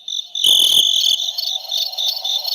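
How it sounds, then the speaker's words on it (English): Crickets chirp loudly in a dense, continuous high trill, inserted as a sound effect after a brief lower rasp, heard close with no talk over it. "I hear crickets."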